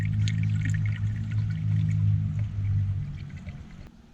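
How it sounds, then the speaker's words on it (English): Coolant being poured into a diesel engine after an EGR delete modification, a steady liquid pour with low gurgling, continuous and close, tapering off near the end. "we're ready to put some coolant in this thing"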